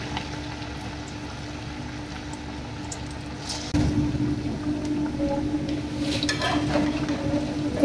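Potato pakoras drop into hot oil, and a quiet background hum gives way to a sudden, steady, louder sizzle and bubbling that continues close up, with a few faint clinks.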